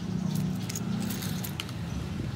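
Keys and a remote fob for an SYM Husky scooter jingle close by in a few bright metallic bursts over a steady low engine hum.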